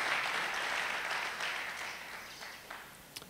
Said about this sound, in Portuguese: Vamos aplaudir a Jesus pela vida do apóstolo